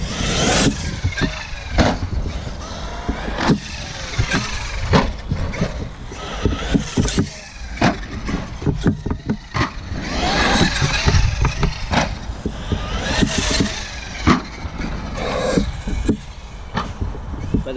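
A Traxxas XMAXX 8S RC truck tearing around a hard-packed concrete BMX track, a loud continuous rushing motor whine and gritty tire noise broken by repeated sharp knocks and thumps as it lands and bounces.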